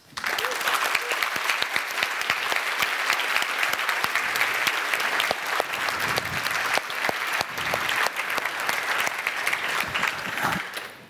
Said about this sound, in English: can we have a round of applause for all of the sponsors of this conference?